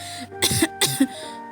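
Elderly woman in a cartoon coughing, two or three harsh, raspy bursts close up with a short throat-clearing rasp between them, alone with no other talk.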